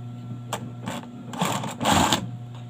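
A sewing machine runs in short bursts while stitching the double-folded hem of a pocket pillowcase. Its motor whirs close and steady, rising into a louder run near the end, and no one speaks.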